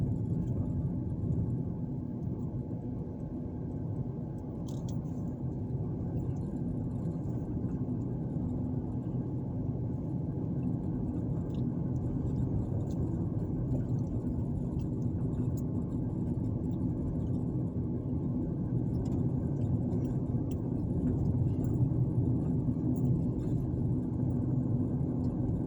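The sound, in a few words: car driving down a street in Montgomery, Alabama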